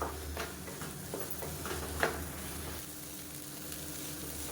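Radish masala egg stir-fry sizzling steadily in a pan while being stirred, with a few soft scraping clicks of the spatula over a continuous frying hiss.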